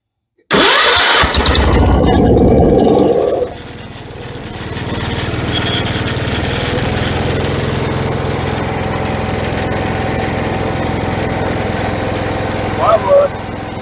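A Kohler K301 engine on a 1976 Vermeer LS200 log splitter fires up with a sharp start, runs loud and rough for a few seconds, then settles into a steady, slightly lower continuous idle drone nearby.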